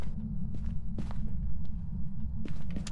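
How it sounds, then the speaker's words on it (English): Footsteps from a ghost in the Phasmophobia video game thud a few times, loud and near, over a constant low hum. "Oh, I heard a footstep."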